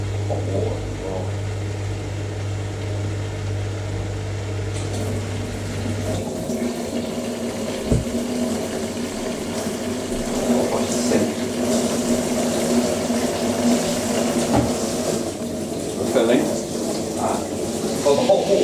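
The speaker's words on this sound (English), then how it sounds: "Well, the hot water comes out really hot here. I'm flushing the hot water through." Hot water flushing from a tap beside an Indesit IWDC6143 washer dryer: a low steady hum gives way to a continuous rushing stream that splashes and gurgles, with a voice talking over much of it.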